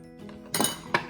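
Two sharp ceramic clinks, a plate placed over a bowl of nasi lemak rice and knocking against it, one at mid-clip and another a moment later, close and fairly loud.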